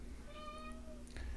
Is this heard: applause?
no